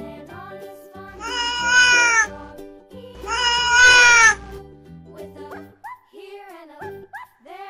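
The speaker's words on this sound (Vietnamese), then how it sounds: "Con mèo" A cat meows twice in drawn-out, close cries, each lasting about a second, with light music playing underneath.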